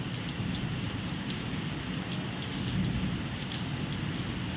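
Heavy monsoon-style rain falls continuously, a thick, even hiss and patter close by with occasional individual drops standing out and faint low rumbles underneath.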